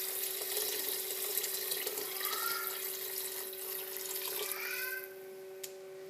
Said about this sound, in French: Je recouvre avec de l'eau à hauteur